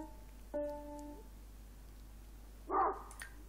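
A dog in The Sims 4 gives a single short bark, then a brief yip a couple of seconds later, both fairly faint against a quiet game background.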